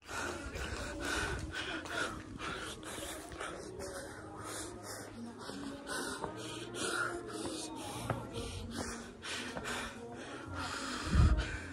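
Heavy, rhythmic panting and snorting breaths from a climber after ascending steps toward the Fansipan summit in Vietnam, close and repeated throughout, with some speech and faint birds in the background.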